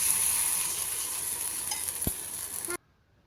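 Appe batter sizzling in hot oil in an appe pan, a steady close hiss that continues evenly, with a brief low knock near the end before the sound cuts off abruptly.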